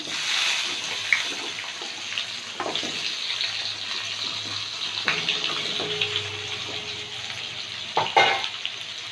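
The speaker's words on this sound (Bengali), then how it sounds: "আমি এখানে আলু শিম আর মুলো নিয়েছি এগুলোও দিয়ে দেব তেলের মধ্যে দিয়ে দেবো এগুলো" Potatoes, flat beans and radish frying in hot oil with nigella seeds, a steady close sizzle with occasional stirring clatter and a few sharp knocks.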